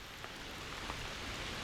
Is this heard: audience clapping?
no